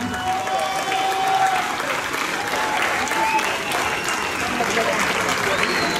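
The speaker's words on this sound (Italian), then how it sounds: "bel applauso." A crowd at an anniversary ceremony gives sustained, loud applause that carries evenly for several seconds, with a few voices mixed in under the clapping.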